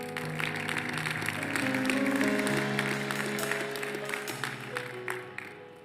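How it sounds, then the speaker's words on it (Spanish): A church congregation applauds during a sermon, moderate clapping blended with sustained music or organ-like tones underneath, swelling in the middle and tapering off at the end. "Den un aplauso al Señor, por favor"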